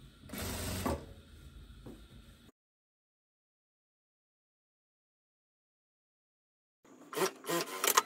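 A sewing machine stitches a linen dress lining in two short bursts, a rattling run at first and a choppier one later, separated by several seconds of silence.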